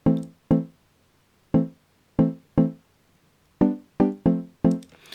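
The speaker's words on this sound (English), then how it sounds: "Look under wood, and I found this one called Wooden Bells" Wooden Bells mallet synth from Logic Pro, dry with no processing, plays a sparse, plucky melody of about ten separate notes, each a bright wooden-bell strike that decays quickly, with gaps between phrases and no voices.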